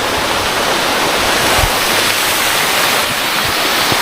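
River water rushes loudly and continuously at a mountain resort in the Philippines, a dense, steady roar with no pauses and no voices over it.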